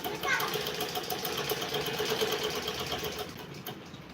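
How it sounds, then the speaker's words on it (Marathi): A sewing machine stitches a dress with a steady, close mechanical whir and a rapid rhythmic needle chatter throughout, while voices murmur faintly underneath. "ड्रेसला शिलाई करते"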